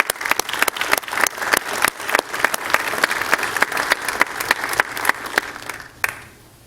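Sustained applause fills a city council chamber, with a dense patter of many hands clapping at once before it tapers off abruptly at the end.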